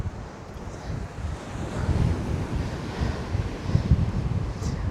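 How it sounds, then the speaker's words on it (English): Rough sea waves crash and surge continuously onto the beach at Great Yarmouth, a loud, steady roar with heavy wind buffeting the microphone. "these waves really are smacking into the shore today"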